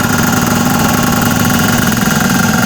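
A pneumatic air compressor motor runs under pressure-switch control beside its tank, giving a loud, steady mechanical hum with a rapid knocking pulse that holds unchanged throughout.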